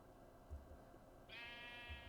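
Sheep bleating in a survival video game set on an island, one sustained harmonic bleat rising midway and holding to the end over a low background hum.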